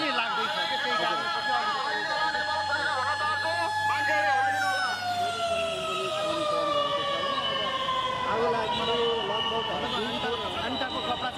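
A fire engine siren wails at a fire in Nepal, rising and falling in long sweeps over street noise. A voice talks over it.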